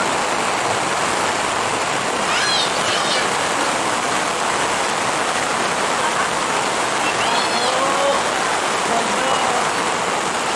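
Rain falls steadily at an outdoor swimming pool, a constant dense hiss of drops on water and surfaces. Faint distant voices and calls rise briefly above it.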